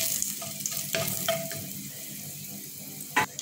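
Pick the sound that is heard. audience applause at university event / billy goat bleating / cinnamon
cinnamon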